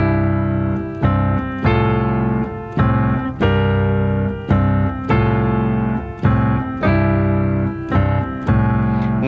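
An easy blues riff on piano played slowly with both hands, low left-hand notes repeating under steady right-hand chords in an even, loping rhythm, clear and close with no talking.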